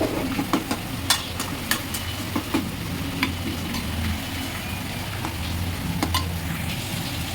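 Mutton kulambu curry being stirred in a pot, with repeated sharp scraping clicks over a steady bubbling, simmering bed; close and moderately loud, no talking.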